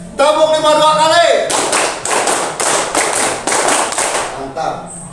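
A classroom group claps a patterned five-beat clap twice, loud broadband claps in repeated bursts after a spoken or sung lead-in with a voice at the start.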